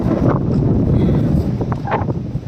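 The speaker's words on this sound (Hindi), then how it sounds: "आप लोग आवाज़ सुन ही रहे होंगे, बहुत तेज़ हवा चल रही है।" Strong wind roars and buffets against the microphone in a constant low rumble at a hilltop temple, with faint rustling throughout.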